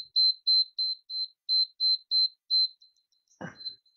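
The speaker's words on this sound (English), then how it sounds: "As soon as the timer stops." A workout interval timer for Tabata-style HIIT gives a run of about a dozen short, evenly spaced high beeps, loud and close, then a brief thump as the sequence ends.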